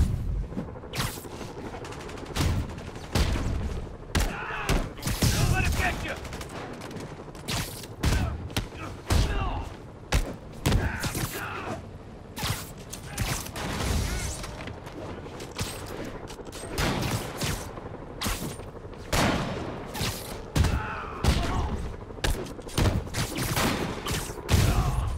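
Enemy gunfire in Marvel's Spider-Man Remastered crackles in dense, repeated bursts and volleys, mixed with thuds and booms of combat throughout.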